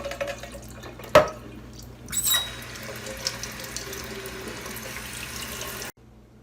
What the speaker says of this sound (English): and then rinsing the corn in a colander under cold water.